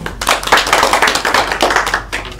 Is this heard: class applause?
yes